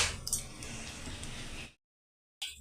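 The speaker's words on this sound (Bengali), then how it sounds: "এবার ম্যারিনেট করা মাংসটা এর মধ্যে দিয়ে দিলাম" Marinated chicken dropped into a pan of ginger and garlic gives a wet squishy sizzle with faint clinks for nearly two seconds, then cuts to a short silence before a brief burst of sound returns.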